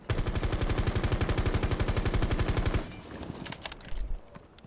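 L8 light machine gun in Rainbow Six Siege firing a sustained rapid automatic burst of about three seconds, loud and evenly spaced, then stopping into scattered clicks and faint mechanical handling sounds.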